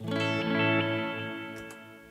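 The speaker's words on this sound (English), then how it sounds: "we can have the reverb and delay on" Sustained electric guitar chord drenched in reverb and delay from a Headrush or Helix processor, its shimmering repeats trailing off slowly as the notes fade.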